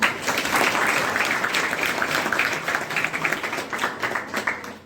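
A crowd at a women's helpline organisation event in Jhansi applauds to welcome a speaker, with sustained, dense clapping at steady volume that tapers off at the close.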